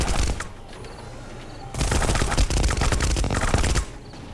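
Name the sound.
gunfire from NPCs shooting in a video game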